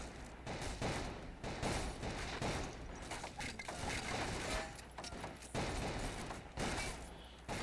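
Dense battlefield gunfire from the Men of War: Assault Squad 2 Civil War mod, with rifle volleys crackling almost without pause, overlapping into a loud, continuous fusillade during an uphill Confederate charge.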